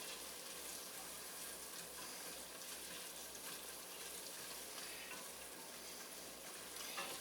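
Chopped onions for lobster bisque cook down in a pan, a faint, steady low sizzle and bubbling hiss running evenly without pause.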